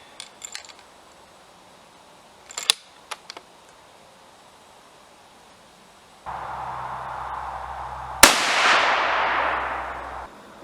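A Howa rifle firing 68gn Hornady BTHP rounds lets off a single sharp, loud shot late in the sequence that rings out and decays. Quiet clicks and handling noises come earlier, followed by a steady background hum.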